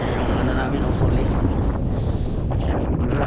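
Steady, heavy coastal wind at Rabigh, Saudi Arabia buffeting the microphone, a loud continuous low rumble filling the whole clip, with faint talk underneath.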